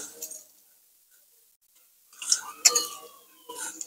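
Soaked rice tipped into a pot for egg biryani, with a few short, scattered patters and soft clatters close by after a long quiet stretch.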